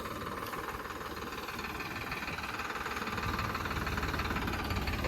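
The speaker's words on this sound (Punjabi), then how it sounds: "ਲਓ ਜੀ ਆ ਗਿਆ ਟਰੈਕਟਰ" An old 1995 Holland 855 tractor engine with a fault runs steadily nearby, a continuous rough mechanical chugging and knocking that swells slightly toward the end, with no talking over it.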